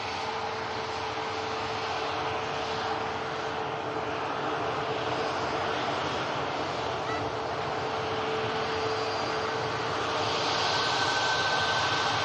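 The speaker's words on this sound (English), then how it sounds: "Ryanair 737 MAX touching down on runway 23 right." A Ryanair Boeing 737 MAX touching down on runway 23 right at Manchester Airport, arriving from Madrid. Its steady broadband jet roar stays loud and constant throughout, with no talk.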